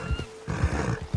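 Horse in the Red Dead Online video game, heard as a brief animal snort or whinny with low rumbling, close and fairly loud in a short burst.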